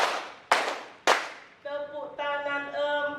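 Three sharp, close hand claps ring out about half a second apart, each snapping and decaying quickly, before a voice starts speaking.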